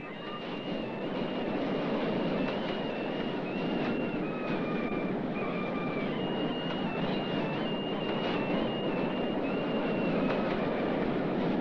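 A Bombay suburban commuter train rumbles steadily and loudly throughout, with a broad roar of wheels on track and thin metallic squealing tones drifting above it.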